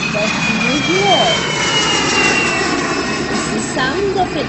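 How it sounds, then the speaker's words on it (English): An airplane's engines roar steadily and fairly loud, a continuous broad whooshing drone with faint birdsong chirps heard over it. "It's the sound of an airplane."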